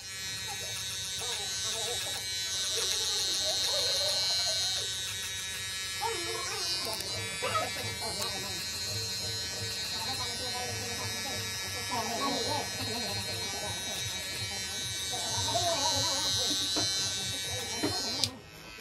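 Gamma Rebel hair clippers with a number two guard fully open buzz steadily and close up while cutting a burst fade, with brief pauses and shifts in tone as the blade moves through hair.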